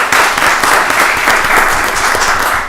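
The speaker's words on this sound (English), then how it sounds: "give them a round of applause" An audience at a county board of commissioners voting session gives a loud, sustained round of applause, with many hands clapping close together.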